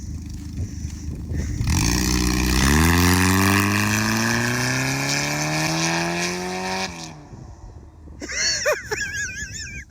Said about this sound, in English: Let's see if the line lock works.